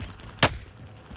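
A single sharp gunshot in the video game Call of Duty Warzone, loud and close against a low hum of game ambience, no talking.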